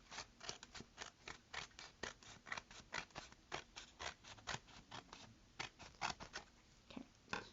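Scissors snipping through paper during a sea turtle weaving craft, a steady run of close, crisp cuts repeating about three times a second with a soft papery rasp.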